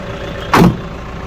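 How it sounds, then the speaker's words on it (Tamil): A 2019 Pick Up XL pickup truck sits idling with a steady low engine hum, broken by one brief louder whoosh or thump partway through. "வண்டி வந்து ஆன்லேயே தான் இருக்குது வண்டியோட சவுண்டு பாருங்கள் நல்லா பக்காவாக இருக்குது"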